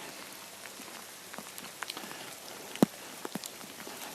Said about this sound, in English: I think I'm going to just leave it with the sound of the rain.